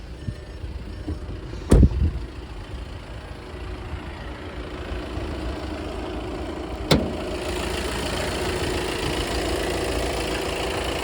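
A Skoda Kodiaq L&K with a two-litre 190 hp diesel engine idles steadily with a low, even rumble, broken by a couple of sharp knocks or clunks near the car.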